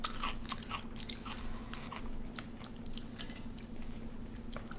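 Close crunching bites and chewing of a crunchy sweet-and-sour snack during a miracle berry taste test, a run of small crisp cracks over a steady low hum, no talking.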